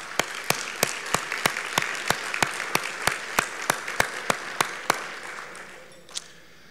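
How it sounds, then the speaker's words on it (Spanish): Applause at a vocational training conference, heard as a steady run of distinct, evenly spaced claps, about one every third of a second, fading out after roughly five seconds, with one last clap later. "Muchas gracias y un aplauso para todos ustedes"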